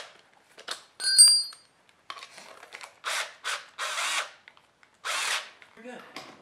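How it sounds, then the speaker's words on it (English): A 12-volt cordless power drill whirs in several short bursts separated by pauses, with light clicking and rattling between spins, while working on car wheels. "now we can go back to the drill"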